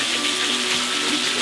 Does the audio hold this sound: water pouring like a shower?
yes